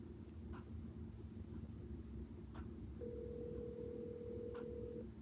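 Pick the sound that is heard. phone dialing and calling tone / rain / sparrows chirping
phone dialing and calling tone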